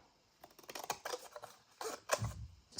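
Scissors snip through paper scraps in a few short, quiet cuts, close and isolated with slight rustling between the snips.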